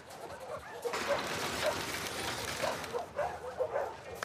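Dog in The Last of Us Part II giving short yips and whimpers, several quick excited calls in the latter half, fairly close, mixed with faint game ambience.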